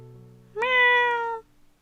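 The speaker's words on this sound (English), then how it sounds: "I heard a tiny cat crying from beneath my legs." A tiny cat gives a single clear, drawn-out meow, close and loud, over a faint steady background hum.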